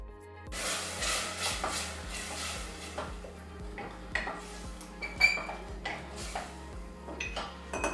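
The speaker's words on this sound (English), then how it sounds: "Our berries cooking down." Mixed berries with sugar cooking down in a pan for crepe filling, with steady clinks and scrapes of a utensil against the pan and a low simmering bubble throughout, no voices.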